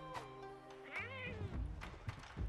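Palico cats meowing in the Monster Hunter Rise video game, several clear meows one after another with a drawn-out yowl in the middle, close and distinct, with faint game sounds underneath.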